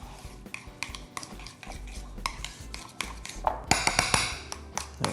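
A spoon mixes a vegan ricotta and parmesan filling for stuffed squash blossoms in a bowl, giving a steady run of close scraping and clinking taps against the bowl, busier and louder toward the end, with no talking.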